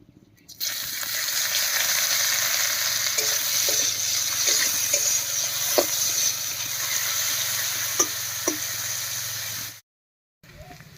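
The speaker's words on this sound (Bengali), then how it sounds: "এই মাছ ভাজার তেলের মধ্যেই ফোড়ন দেবো আর ফোড়ন দেবো শুধু পেঁয়াজ কুচি দিয়ে" Chopped onion frying in leftover fish-frying oil, a steady close sizzle broken by a few stirring scrapes and clinks, running continuously for about nine seconds before cutting out.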